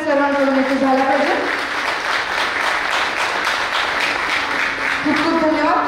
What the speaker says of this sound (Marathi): जोरदार टाळ्या आपल्या सर्वांकडून इथे झाला पाहिजे।